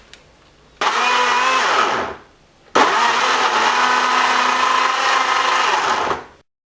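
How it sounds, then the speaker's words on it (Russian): A blender whirs loudly in two bursts, a short run then a longer one, motor pitch shifting as it purees fruit, then stops. "Накрываем крышкой и хорошенько в блендере все это перемешаем."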